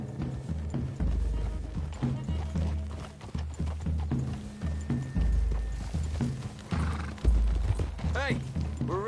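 Horses clip-clop steadily through trees in a Western video game, hoofbeats near and continuous under a music score, with a brief neigh and speech nearby.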